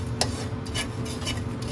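Sesame seeds stirred in a frying pan over low heat, a dry scraping and rustling with a few sharp metallic taps of the spatula against the pan, close and steady, with no talking.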